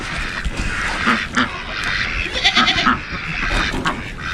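Goats bleat repeatedly and close by on a goat farm in Iowa in January, several overlapping wavering calls that rise and fall across the whole stretch.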